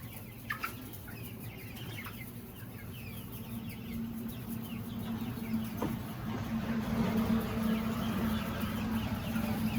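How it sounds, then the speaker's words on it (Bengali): Sonali chickens on a poultry farm, a flock clucking and calling continuously at a moderate distance over a steady low hum, the chatter building slightly toward the end. "সব মুরগিগুলো অনেক চঞ্চল আছে"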